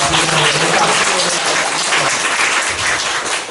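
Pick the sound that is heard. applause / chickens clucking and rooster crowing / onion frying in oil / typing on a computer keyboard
applause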